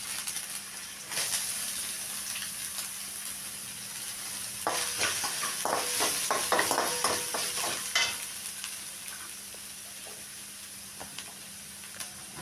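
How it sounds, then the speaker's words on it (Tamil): Chopped onion hits a hot pan for fried rice, sizzling and hissing with a burst of crackling frying and stirring through the middle, then settling to a steady low sizzle; no talk. "இப்போது கட் பண்ணி வச்சுருக்க ஆனியன் அதில் ஆட் பண்ணிக்கலாம்"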